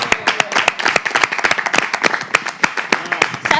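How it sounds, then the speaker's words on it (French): Several people clap in a studio, a brisk uneven patter of sharp hand claps running throughout, fairly close and loud, with no talking over it. "Est-ce qu'on peut applaudir le DA?"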